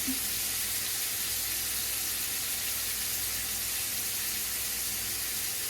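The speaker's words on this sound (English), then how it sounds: "And so I am frying it up with a little Tony Sacchery on it." Steady, loud sizzling of catfish frying in hot oil, a continuous crackling hiss with no talking.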